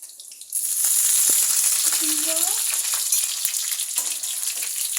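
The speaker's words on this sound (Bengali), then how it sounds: "আমরা এখন রান্না করছি চিকেন পপকর্ন।" Chicken popcorn fries in a pan with a loud, steady sizzle and crackle throughout. A brief stirring or scraping noise rises over it at times. No speech is heard.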